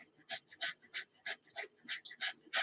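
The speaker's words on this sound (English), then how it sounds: "Here, come here, pup. Say hi to people." A dog panting in quick, regular breaths mixed with soft whimpers, close by and fairly quiet, with no one talking over it.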